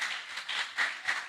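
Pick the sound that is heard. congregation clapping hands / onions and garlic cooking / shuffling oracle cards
congregation clapping hands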